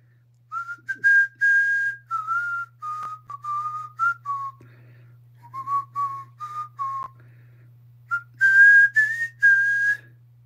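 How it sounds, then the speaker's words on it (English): A person whistles a wavering melody in several short phrases separated by pauses, clear and close against a quiet low hum, with no talking. "Can you whistle without moving your lips?"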